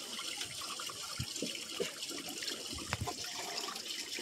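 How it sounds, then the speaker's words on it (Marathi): Freshly caught fish are washed by hand in clean water outdoors, with soft splashes, trickles and small sloshing bursts over a quiet, steady water background and no talking. "मस्तपैकी मासं साफ करायचं काम चालू आहे आपला ह्या स्वच्छ पाण्यामध्ये इथं"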